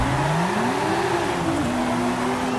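Nissan Z sports car engine revving hard at a race start in a racing video game, a steady loud drone whose pitch climbs and levels, continuous and close with no talk.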